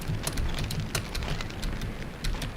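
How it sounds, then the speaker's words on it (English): Steady rain falling in the survival game SurvivalCraft 2, a continuous dense patter with scattered sharper drop ticks, fairly loud and constant with no talking. "it is raining"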